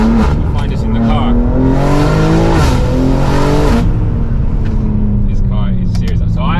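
BMW G80 M3 heard from inside the cabin while driving, the engine note rising and falling with a swell of acceleration midway, loud and steady under people talking.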